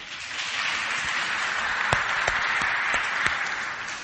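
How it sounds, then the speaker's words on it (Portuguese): A church congregation claps together in steady, dense applause at a pastor's birthday call, a few sharper claps standing out near the middle, with no talking over it. "Dê uma salva de palmas."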